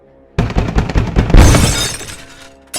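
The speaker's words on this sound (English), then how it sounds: "it sounded like a fist being pounded against glass" A heavy blow on window glass with a shattering, breaking burst: one loud close impact followed by a crashing, ringing decay that fades over about two seconds.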